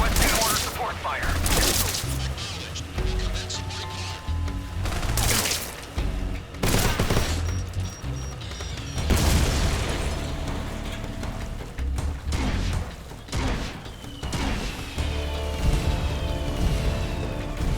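Support fire rains down in the video game Metal Gear Solid Delta: Snake Eater, with bursts of heavy gunfire and booming explosions erupting in repeated clusters, loud and close, with occasional mechanical clanks between volleys.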